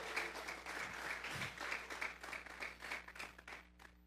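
A church congregation clapping together as an offering of praise to God during a sermon, a steady diffuse patter of many hands heard from a distance and fairly faint, with no talking over it.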